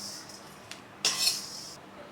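A metal spoon clinks and scrapes in a pan while scooping out roasted fenugreek seeds; one brief tap, then a louder scraping clatter lasting under a second, fairly close, with no talk.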